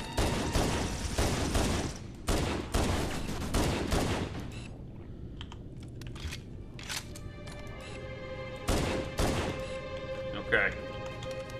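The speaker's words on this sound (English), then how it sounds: "I had to shoot him a couple times in the foot to make sure he was actually dead" Gunfire in a Halo CE co-op game: dense, rapid bursts of shots for the first four seconds, a quieter stretch, then another loud volley near the end.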